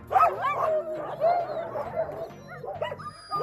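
A sled dog, an older animal retired from a dog team, barks and yips in quick bursts with whimpering between, loud and close, with human voices mixing in at points.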